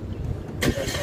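A Suzuki XL7 engine cranks and catches about halfway through, a loud broadband burst that settles into a steady idle hum, heard from inside the cabin after a quiet moment.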